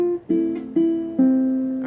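Fingerstyle acoustic guitar playing two parts at once for a song: four plucked chords with a melody line over a bass, each ringing and decaying before the next, close and alone.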